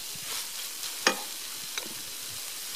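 A pot of egusi stew made with blended melon seeds simmers with a soft, faint sizzle and bubbling, broken by one sharp tap and a lighter click nearby.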